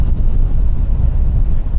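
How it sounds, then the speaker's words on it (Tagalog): Strong wind buffets the microphone in a dense, low roaring rush that holds steady throughout. "Ang lakas ng hangin, tapos ang lamig."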